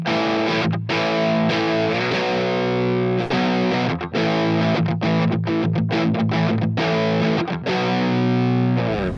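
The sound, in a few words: Yamaha Revstar electric guitar with humbuckers, focus switch engaged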